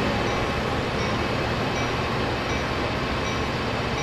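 Three locomotives hauling a train in Train Sim World 2, a steady unbroken rumble of engines and rolling wheels, close and fairly loud throughout with no voices.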